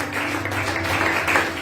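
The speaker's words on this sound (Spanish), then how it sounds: "Den un fuerte aplauso al Señor" Congregation applause during a Sunday church service, a steady, moderately loud patter of many hands clapping together, with a sustained low musical tone underneath.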